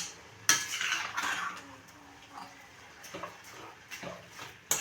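A lid set down on a pan of halwa cooking over a low flame, with several distinct metallic clanks and taps, close and fairly loud.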